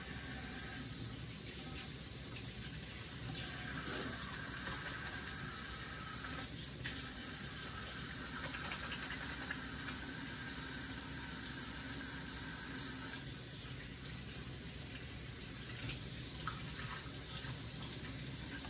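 Tap water runs steadily into a kitchen sink, a constant loud, broadband rushing splash that continues without pause throughout.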